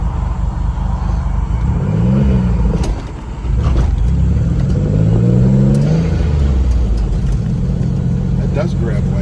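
Engine of a turbocharged Acura Legend with a manual clutch revs and accelerates on a drive, rising and falling in pitch as it pulls hard, with occupants talking inside the car over the steady engine drone.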